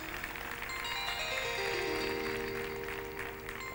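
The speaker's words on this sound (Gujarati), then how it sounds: "સંતો આવ્યા, તાળીઓથી વધાવો લ્યો" An audience at a religious katha claps to welcome arriving saints: sustained, dense applause throughout, with steady musical tones running underneath.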